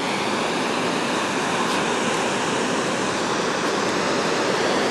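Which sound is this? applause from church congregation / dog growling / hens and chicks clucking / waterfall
waterfall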